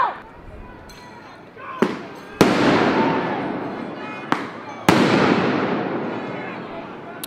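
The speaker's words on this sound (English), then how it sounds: "most of us became so used to the flashbangs that I was ineffective. Though there were protesters throwing firecrackers as well that sounded very similar." Loud sharp blasts from flashbangs and firecrackers at a street protest in Portland, with several sudden bangs, each followed by a long echoing decay, plus faint voices between them.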